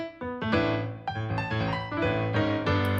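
A Studio Grand piano preset with no EQ plays a short sequence of distinct, ringing notes and chords, clear and close with no other sound.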